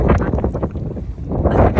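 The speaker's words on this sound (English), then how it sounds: "I think it's too windy up here for me to talk to you any longer." Loud wind buffeting a microphone in heavy, uneven gusts that rumble and roar, easing briefly in the middle before surging again.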